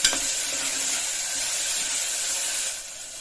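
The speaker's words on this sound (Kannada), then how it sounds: "ಸ್ವಲ್ಪ ಅರಿಶಿನ ಪೌಡರ್ ಹಾಕೊಂಡ್ಬಿಡ್ತೀನಿ ಮಿಕ್ಸ್ ಮಾಡ್ಕೊಂಡ್ಬಿಡಿ" Turmeric powder stirred into food frying in a pan, a steady close hiss and sizzle with a small clink at the start, softening near the end.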